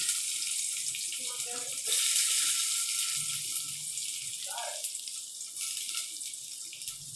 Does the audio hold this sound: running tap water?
yes